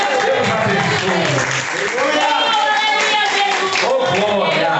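A church congregation claps together in worship, a dense, loud, continuous wash of hand claps that runs throughout with voices singing or calling over it.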